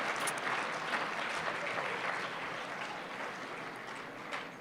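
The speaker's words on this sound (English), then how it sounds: "let's give them a huge round of applause, all of the performers" Audience applause for the performers at a live show, a dense patter of clapping heard from some distance and fairly soft, holding steady before easing slightly toward the end, with no voices over it.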